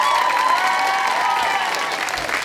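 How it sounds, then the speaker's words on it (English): Audience applause at a Greenwood Academy school production of Camp Rock, a steady wash of clapping from a crowd, with a faint sustained tone and some murmuring mixed in throughout. "You clap now."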